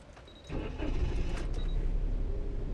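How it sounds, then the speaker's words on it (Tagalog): A car engine cranks and catches as the key is turned, settling into a steady idle that stays close and fairly loud inside the vehicle, after a brief quieter moment at the start. "Then, i-on na po natin yung ating sasakyan."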